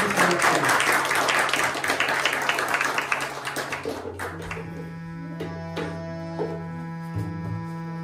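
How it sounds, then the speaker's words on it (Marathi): Audience applause welcoming a Diwali evening concert featuring harmonium, a loud dense burst of clapping that fades after about four seconds as sustained harmonium tones and a voice take over. "सगळ्यांनी एकदा जोरदार टाळ्या वाजवून कार्यक्रमाचं स्वागत करा"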